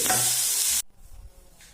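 A spoon stirs dosa batter mixed with onion, giving a loud, close, wet hiss for under a second before it cuts off into near silence.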